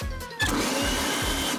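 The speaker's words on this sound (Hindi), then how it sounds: "अच्छा हुआ मेरा ब्लेंडर मेरे साथ है।" A blender whirs loudly while making a smoothie, a steady motor drone with rhythmic pulsing churns, close and alone without talk.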